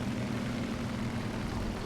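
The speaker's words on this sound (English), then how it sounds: "Look at me, I got a jet" A jet engine in the War Thunder video game, a steady, dense roar with a low droning hum, continuous and fairly close, with no voices.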